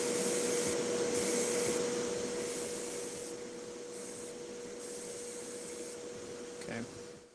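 An airbrush sprays paint onto a model as a faint, continuous airy hiss, coming in soft bursts that stop and start, with a steady tonal whine beneath and a brief clatter near the end.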